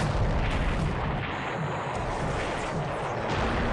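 Torpedo hits exploding on enemy ships during a naval strategy video game, a dense, continuous rumbling roar of blasts with booming low end, loud and unbroken throughout.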